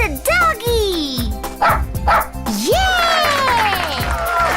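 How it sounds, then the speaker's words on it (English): A toy dog gives a series of loud, electronic-sounding barks and yips, with pitch sweeps up and down, alternating with a bright sung or spoken voice close by. "It's a doggy!"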